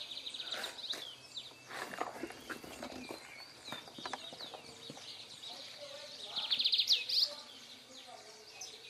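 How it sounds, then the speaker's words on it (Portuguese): Small birds chirp and twitter around a rural farm near a coffee washer and separator, with a brighter burst of song late on; someone talks over the calls. "E passarinho cantando aqui, que bonitinho."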